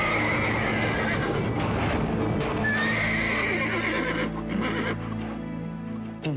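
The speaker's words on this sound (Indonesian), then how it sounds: "Bawa kuda ke sini, ikat di sini ya." Horse neighing loudly and close, a long whinny over a busy outdoor scene with clip-clop hooves and rumbling background noise, fading slightly toward the end.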